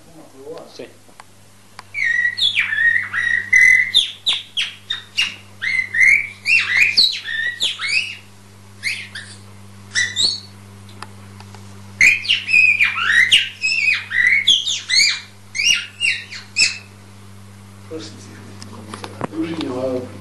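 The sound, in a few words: whistled imitation of a nightingale's song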